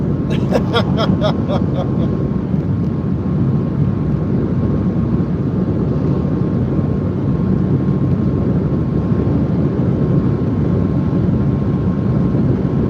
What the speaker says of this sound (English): Motors sound good, everything feels healthy.